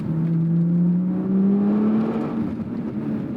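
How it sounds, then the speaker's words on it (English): Engine note of a 2014 Lotus Evora S revving through its exhaust, a steady howling drone that rises gradually in pitch over a few seconds, loud and close with no talking. "the way that this engine howls, and with this exhaust, it actually sounds great"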